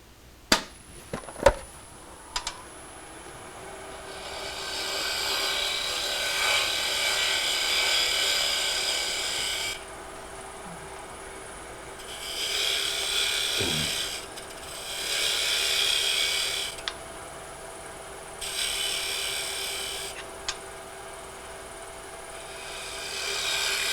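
A woodturning tool makes shear scraping cuts on a small wooden ring box spinning on a lathe, giving several hissing passes of a few seconds each with quieter gaps between them and a couple of sharp knocks at the start.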